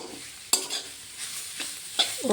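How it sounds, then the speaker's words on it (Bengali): Carrot halwa is stirred in a pan, with a few distinct spoon scrapes and taps over a soft, low sizzle, close but fairly quiet. "তো দেখো এভাবে ভালো করে নাড়তে থাকবো"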